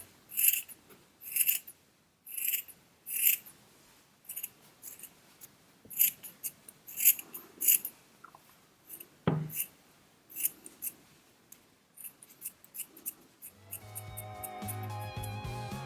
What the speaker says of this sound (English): Cut out the entire body, taking care not to get too close to the stitches.